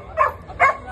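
Two quick, loud barks from a dog at a busy canal festival, one right after the other.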